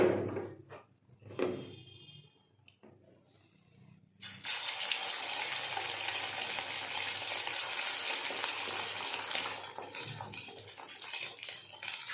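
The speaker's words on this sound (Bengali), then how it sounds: "ম্যারিনেট করা চিকেনগুলো আমি ভেজে নিচ্ছি" After a few clinks and knocks, a loud, steady sizzle of marinated chicken pieces frying for chicken Manchurian erupts and continues for several seconds, close up, before easing slightly near the end.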